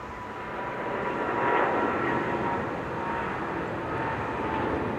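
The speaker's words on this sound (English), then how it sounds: "Thank you, cleared for takeoff, runway 14" Emirates Boeing 777-300ER jet engines roaring steadily through a takeoff roll on runway 14 at Dhaka, a dense broadband rumble that swells slightly midway and holds loud and continuous.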